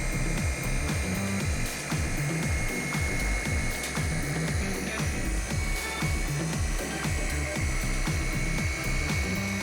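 A gear-driven dual action polisher with a fresh foam pad runs steadily at speed on a boat hull during oxidation removal, a loud continuous mechanical whir with a rhythmic low pulsing throughout and no talking.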